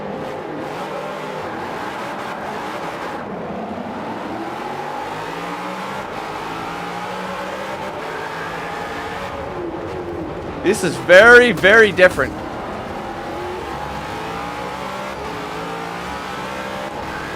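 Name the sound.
race car engine revving in the video game Forza Motorsport 5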